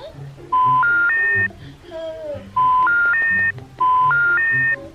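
Three quick bursts of telephone keypad tones, each a rising run of beeps, with a faint voice and background murmur between them.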